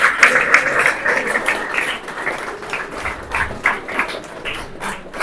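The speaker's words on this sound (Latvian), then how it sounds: "aplausi mūsu arī tehniskajiem asistentiem." Audience at an international photography symposium claps for the technical assistants, moderately loud applause with uneven, pulsing bursts of hand claps lasting several seconds.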